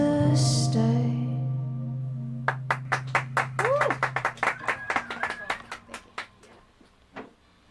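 A small audience claps after a song, a short thin round of hand claps that starts sparse, quickens, then trails off to a last few scattered claps. Before the clapping there is a held sung note and a brief voice.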